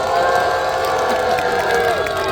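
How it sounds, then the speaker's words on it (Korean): A large outdoor crowd at the Gyeongpo New Year sunrise festival concert in Gangwon cheers and applauds, a loud, continuous roar of shouts and clapping. "서로를 위해서 뜨거운 박수와 함성 한번 주세요."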